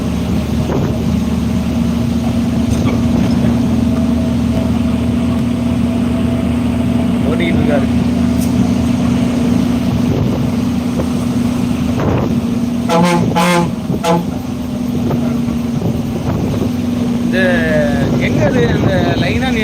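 A loaded company truck travels along the highway between Tiruchirappalli and Thanjavur, its engine giving a loud, steady drone throughout, with a few brief horn-like toots near the middle.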